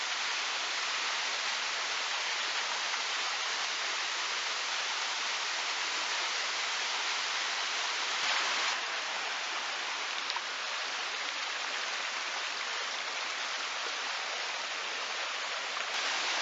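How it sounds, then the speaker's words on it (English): Water pours over the mineral-crusted rocks of the Sticky Waterfall near Chiang Mai, a steady, full rushing roar that holds evenly throughout with no voices. "Mineral deposits in the water have given the rocks a grippy surface, so you can climb up the waterfall fairly easily"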